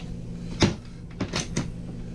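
Worn cabinet doors aboard a Viking 52 Open boat are opened and shut, giving a few soft, close knocks and thuds over a low, steady background hum.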